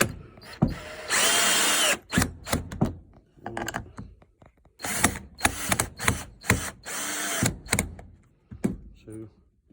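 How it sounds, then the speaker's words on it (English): Screws are driven into pallet-wood stool legs with a power driver in short bursts of whirring, some long and some brief, with knocks in between. A person talks at points between the bursts. "So we're going to screw all of these in."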